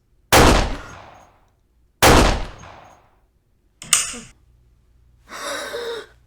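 Gunshot sound effects ring out in a wrestling figure scene: two loud, sharp reports about two seconds apart, each with a long ringing tail, then a brief metallic clatter and a short gasp-like burst.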